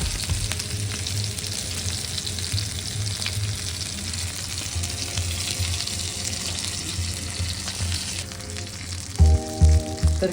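Mackerel (bangda) fish shallow-frying in a pan over a low gas flame, giving a steady soft sizzle throughout with a few louder bubbling bursts near the end.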